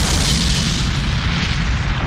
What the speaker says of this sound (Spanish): cuando los obreros están descargando ese barco, ocurre una explosión.